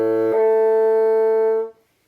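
A bassoon holds a low A, then slurs up to a sustained high A brought out with a thumb flick of the key, a clear solo note lasting over a second before cutting off.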